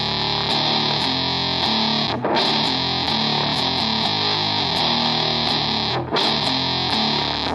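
Electric guitar played through a low-gain Big Muff fuzz model on a Boss GT-1000, a dense, sustained distorted tone ringing steadily with two brief breaks between phrases, loud and alone without talk.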